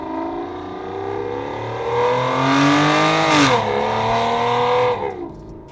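A 2007 Aston Martin DB9 V12 with an X-pipe and catback exhaust revs loudly and close by, its engine note climbing through a sweeping rise, peaking sharply, then settling into a steady high rev before cutting off.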